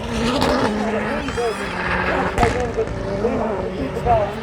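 Race car engines roaring with tyres screeching and smoking at the finish of the final race of a Legends car racing festival, loud and continuous, under excited commentary.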